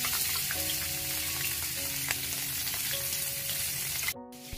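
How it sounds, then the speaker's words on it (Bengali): Fish fries in hot mustard oil with a loud, steady, close sizzle throughout, cutting off abruptly near the end; no talk. "মাছটা আমি তেলে দিয়ে দিলাম।"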